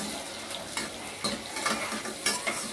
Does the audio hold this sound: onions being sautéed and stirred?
yes